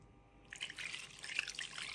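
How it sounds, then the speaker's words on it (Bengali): After a short quiet moment, water is poured into a cooking pot in a soft, close trickling stream that continues to the end. "এই সবটুকু পানি আমি এখানে দিয়ে দিব"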